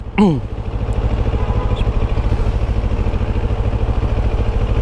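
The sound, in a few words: CFMOTO CLX700 Heritage motorcycle engine in sport mode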